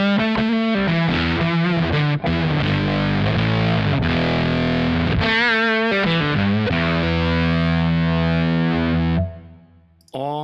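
Electric guitar through a Kemper Profiler germanium fuzz distortion preset, loud, thick and sustained with saturated chords ringing out, cutting off near the end before a brief final burst; no voices.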